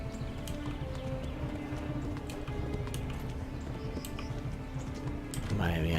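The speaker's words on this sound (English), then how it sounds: "El caballo se está cansando también" Horse hooves galloping in the medieval video game Kingdom Come: Deliverance, a steady rapid clip-clop beneath game music and ambience, continuous throughout with a louder swell near the end.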